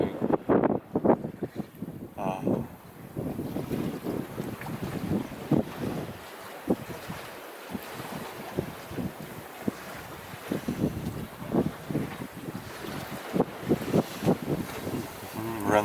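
Sailboat Vinderla running downwind near Trondheim, the wind coming in on the aft beam: steady gusty wind rumbling over the microphone with water rushing and slapping along the hull, continuous and fairly loud, with no talking.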